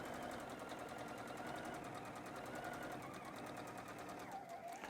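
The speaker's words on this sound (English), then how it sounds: "we're going to back stitch at the ends of all of these" A sewing machine stitches apron fabric with a continuous fast rhythmic whirring hum, close and steady, slowing slightly near the end.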